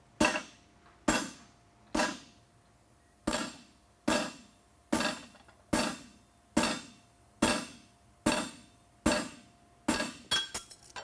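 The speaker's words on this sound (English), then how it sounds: "we're going to use a set hammer, and we're just going to kind of clean up these edges." A blacksmith's set hammer strikes a horseshoe about a dozen times, cleaning up its edges. The blows are sharp, ringing and evenly spaced at about one per second, then come faster and lighter in a quick cluster at the end.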